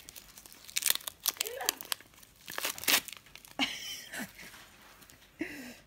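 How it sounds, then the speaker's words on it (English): Plastic packaging around a roll of electrical tape crinkles and tears in several loud, close bursts, with a person speaking intermittently between the rustles. "So now we're gonna go ahead and open our electrical tape."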